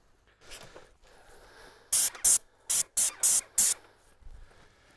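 An airless sprayer spraying wood stain fires about five short, sharp hissing bursts close by, with brief gaps between them, over quiet background rustling.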